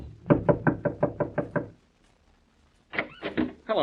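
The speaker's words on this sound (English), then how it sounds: "as he knocks on Mary Wesley's door" Knocking on a wooden apartment door in a radio drama, eight quick, evenly spaced raps, loud and close, followed by a pause and then a voice answering.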